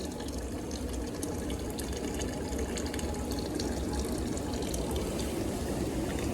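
Maple sap pours in a steady, fairly loud stream of running water close by, continuous for several seconds with no pause and no voices.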